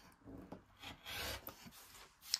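A rotary cutter or blade trims the edge of a quilt block of fabric pieces lined up along a ruler at the 4.5 inch line, making a short, soft rasping scrape, faint and close.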